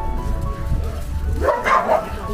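At a stray dog rescue yard in China, a dog gives a short bark or yip near the end, over a low background rumble and people talking.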